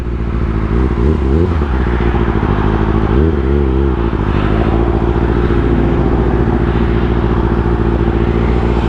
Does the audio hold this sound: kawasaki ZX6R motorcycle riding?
yes